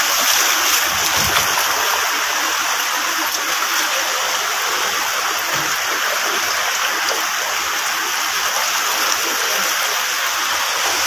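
Floodwater of the Ravi river in Pakistan rushes past in a loud, unbroken roar, with faint voices now and then beneath it.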